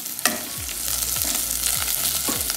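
Ginger and bay leaves sauté in a pan over a moderate flame, a steady close sizzle with repeated scraping stirs of a utensil roughly every half second, and no voices.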